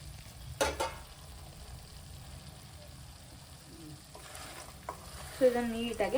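Egg tossed into a hot pan with capsicum and onion for egg Manchurian, giving a quiet, steady sizzle with a couple of stirring scrapes and soft clatters.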